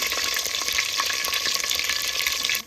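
Seasonings and curry leaves splutter in hot oil in a clay pot for prawn curry, a loud, close, continuous crackling sizzle with dense popping throughout.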